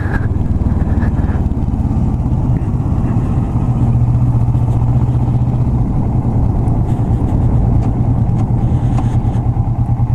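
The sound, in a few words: Kawasaki Vulcan S motorcycle engine with aftermarket exhaust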